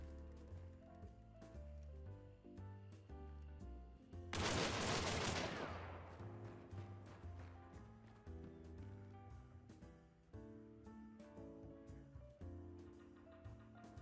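A rapid burst of revolver shots from the Copperhead being fanned in Hunt: Showdown, a dense volley of about a second that cuts loudly through steady background music, which carries on before and after.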